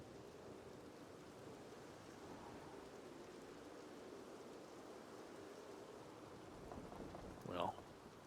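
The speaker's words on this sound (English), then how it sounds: "I hear rain." Soft, steady rain in the video game Red Dead Redemption 2 falls continuously at low volume, with a brief rising whistle-like sound near the end.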